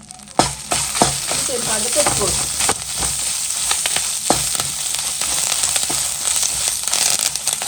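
Spices for a fennel-seed chicken curry temper in hot oil, crackling and popping sharply over a constant sizzle, loud and close, with faint voices in the background.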